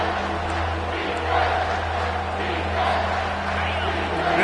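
Football stadium crowd roaring during a game: a dense, loud wash of cheering that swells and recedes in waves, with a commentator's voice talking over it.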